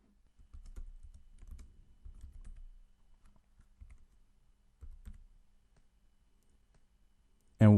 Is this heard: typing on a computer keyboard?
yes